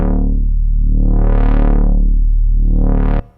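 A buzzy dubstep synth bass note held steady while a smooth, slow sine-wave LFO wobble sweeps its brightness up and down twice before it cuts off abruptly.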